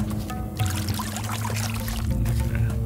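Water being drunk in the video game Pathologic 2, a steady pouring, gurgling liquid sound running continuously for a few seconds over a low droning background.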